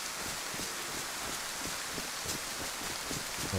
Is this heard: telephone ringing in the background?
no